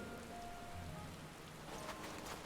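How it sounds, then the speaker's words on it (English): Rain falls in the video game Final Fantasy XIV as a steady, soft hiss of drops spread across the whole clip, faint and even, with a few quiet musical tones beneath it and no voices. "if it's so cold here, why is rain falling?"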